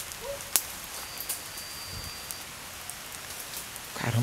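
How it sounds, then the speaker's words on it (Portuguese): Soft, steady patter of rain falling nearby, with a few sharp taps and clicks and a brief rustle near the end. "Olha o barulho da chuva."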